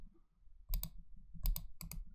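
Three short pairs of crisp computer mouse clicks, right-clicks on a desktop, spaced apart and close to the microphone over a quiet low hum.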